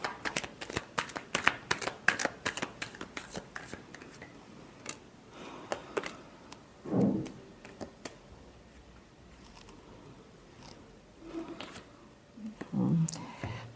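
Tarot cards are shuffled by hand in rapid, close riffling bursts that come in dense flurries early on, then thin out into scattered flicks and soft handling noises.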